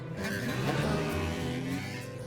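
A cartoon motorcycle's engine revs in a bright, steady whine with rising pitch, heard close and continuous alongside faint tire-like squeals.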